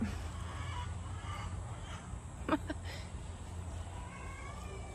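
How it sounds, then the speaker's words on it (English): Soft clucking from chickens in a noisy outdoor setting, with a brief sharper call near the middle over a steady low rumble. "Now the chickens are all coming out here where I'm at."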